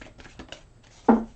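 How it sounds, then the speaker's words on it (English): Tarot cards being given one more shuffle, heard as a few soft riffling flutters followed by a single louder, sharper snap of cards near the end, close by and alone. "One more shuffle."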